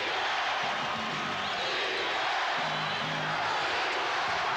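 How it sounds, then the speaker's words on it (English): A home basketball crowd at a 1991 NBA arena game between the Rockets and Lakers cheers and roars in a dense, continuous wash of distant voices that swells slightly throughout. "the crowd finally now in support of the home club."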